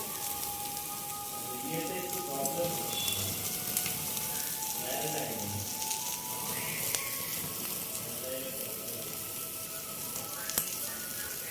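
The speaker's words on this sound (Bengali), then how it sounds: "এই তাওয়াটা আমি নামিয়ে নেব, দিয়ে এটাকে ভালোভাবে একটু সেঁকে নেব" Prawn kebabs roasting on a tawa make a continuous crackling sizzle at moderate loudness, with faint voices in the background.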